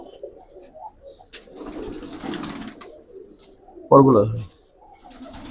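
A Pakistani high flyer Teddy pigeon with a red throat coos in soft, low bursts, ending in one louder, close coo, while people talk nearby and wings briefly rustle.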